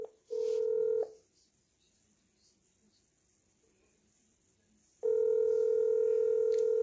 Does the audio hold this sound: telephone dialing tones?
yes